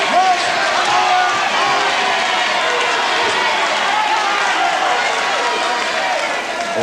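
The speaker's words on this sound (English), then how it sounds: "you hear some great crowd reaction from them" A large arena crowd at a 1984 tag team wrestling match roars continuously, a dense and loud wash of cheering and noise that holds steady throughout, with a commentator talking over it.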